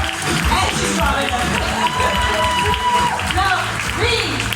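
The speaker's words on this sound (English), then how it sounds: "So give a really big applause" Dense applause from a crowd at a bachata dance weekend in Bratislava, steady and full throughout, with voices mixed in.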